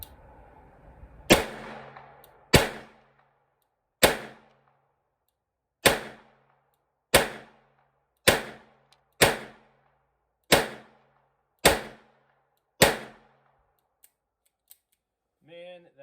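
Ten sharp cracks from a Smith and Wesson 617 .22lr revolver fired double action at a range, spaced roughly one to two seconds apart, each crisp with a short ringing tail, then faint clicks.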